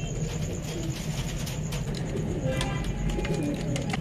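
Pigeons coo softly and repeatedly over a constant low background rumble, the calls close but modest in loudness.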